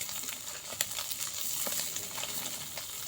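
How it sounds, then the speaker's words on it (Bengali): Small puti fish coated in turmeric and salt frying in hot oil: a dense, continuous sizzle scattered with sharp crackles and pops. "পুঁটি মাছগুলো হলুদের গুঁড়ার সাথে মিশিয়ে লবণ দিয়ে এই গরম তেলে ঢেলে দেওয়া হলো। এটাকে ভাজা হবে।"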